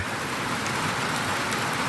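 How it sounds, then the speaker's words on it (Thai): Steady rain falls outdoors in rural Thailand, a continuous dense hiss at an even level throughout, with no speech. "อากาศดีมื้อนี้พี่น้องเนาะฝนมา"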